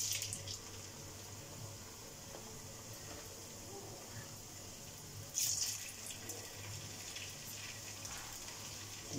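Samosas sizzle in hot oil in a home kitchen, a steady close crackling hiss that brightens partway through as more frying bubbles up.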